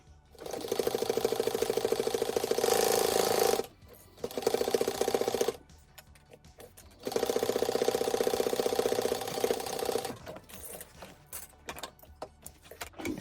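Sewing machine stitching a canvas pencil case, three bursts of rapid, even mechanical stitching, each a few seconds long, separated by short pauses, followed by quieter intermittent clicks and handling sounds.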